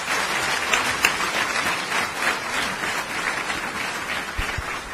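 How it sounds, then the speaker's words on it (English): Audience applause for award winners at a university day ceremony, a steady dense wash of clapping throughout, fairly loud and even with no talk over it. "Let's have a huge round of applause for all the award winners."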